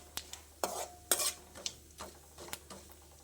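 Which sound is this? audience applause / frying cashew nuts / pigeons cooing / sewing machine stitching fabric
frying cashew nuts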